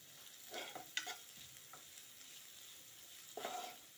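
Green chillies for a carrot palya fry quietly in a pan under a low sizzle, with a few soft scraping spoon strokes near the start and again toward the end, no speech.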